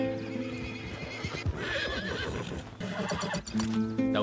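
Horses in the video game Red Dead neighing and whinnying over the clop of hooves, in a dense outdoor game ambience with several calls across the clip.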